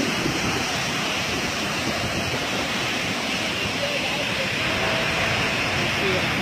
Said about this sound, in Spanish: El viento está haciendo tirar todo el agua fuera de la fuente.